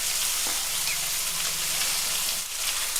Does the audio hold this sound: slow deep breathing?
no